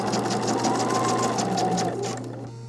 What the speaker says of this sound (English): And now I'm going to keep sewing.